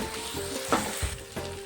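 Fried spices drop into a pan of sizzling masala, giving a close, crackling hiss broken by a few soft bumps and stirring scrapes.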